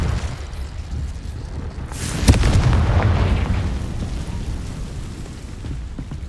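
A Confringo spell explosion in Hogwarts Legacy: one sharp burst followed by a deep, rolling boom that slowly fades over a low rumbling background, with no talking.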